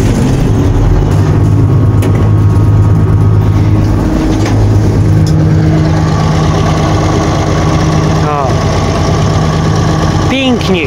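A Bizon combine harvester's engine runs in frosty winter cold, giving a loud, steady idling rumble with a low drone. Voices speak over it now and then.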